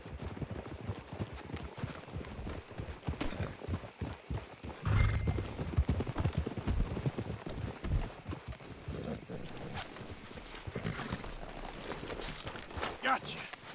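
Horses walking in Red Dead Redemption 2, hooves clip-clopping in a steady uneven patter, close by, with voices talking over them and an occasional whinny.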